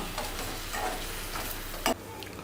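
Crab pepper fry being stirred in a pan during home cooking: a steady oily sizzle with soft scraping strokes, then one sharp clatter near the end, with no talking.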